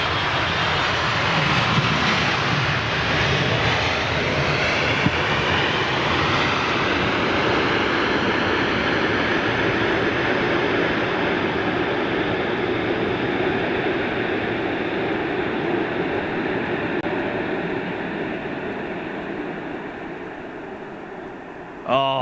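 A Virgin airliner landing at London Heathrow roars loudly and steadily with thrust reversers deployed, a broad sustained rushing engine noise that slowly eases near the end, heard alone at close range.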